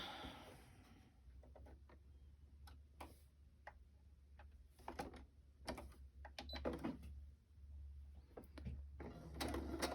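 A sewing machine stitching around a fabric flip makes a steady low motor hum with rapid ticking needle strokes, running close and continuous throughout.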